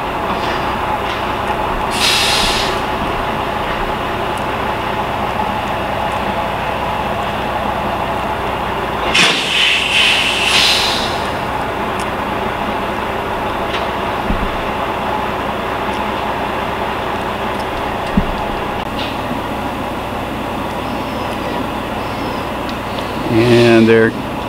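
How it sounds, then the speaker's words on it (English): A pickup truck backs up and repositions a trailer with adjustable suspension carrying the wooden cat boat Petunia. A steady vehicle rumble runs throughout, with clanks and a metallic rattle midway and a louder clatter near the end. "And they're dropping the trailer down and coming back a little further."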